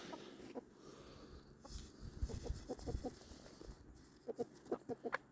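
Backyard chickens scratching about outdoors in the snow give a few scattered soft clucks, then a quick cluster of sharper clucks near the end, fairly close against a quiet outdoor background.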